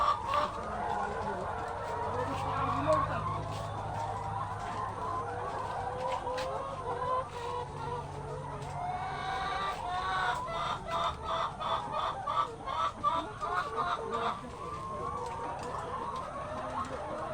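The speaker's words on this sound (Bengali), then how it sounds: "এখানে 1000 পিস মুরগি আছে" Laying hens on a poultry farm with about a thousand birds, a dense flock clucking continuously with scattered squawks and a crow, moderately distant and without talk.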